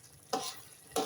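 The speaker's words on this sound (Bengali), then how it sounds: "এই রসুনটাকে কিছুক্ষণ কষাবো শুটকির সাথে।" Garlic paste sizzles with dried fish in a pan over the stove, a soft frying hiss broken by two quick scraping stirs of a spatula.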